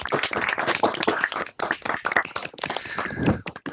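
Online conference audience claps over open microphones at the close of a STEM higher-education conference keynote, a dense, uneven patter of hand claps from several unsynchronised participants, fairly loud and steady throughout with a brief dip midway.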